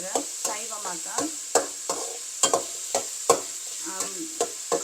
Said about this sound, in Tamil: அன்னாசி கொஞ்சம் பொரியுது, இன்னும் கொஞ்சம் பொரியணும்.